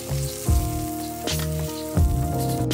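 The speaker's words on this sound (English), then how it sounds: "Get a nice brown sear all over." Short ribs sear in a hot pan for braising, a continuous close sizzle and crackle, with a couple of louder bursts as the meat is moved or turned.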